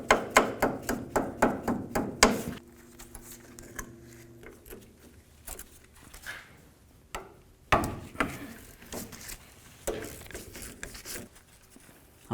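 A nut is backed off a tie rod end on the pitman arm of a 1999–2007 Ford F250. A quick run of rhythmic ratcheting clicks gives way to scattered metallic taps and clanks, close by, with no talking.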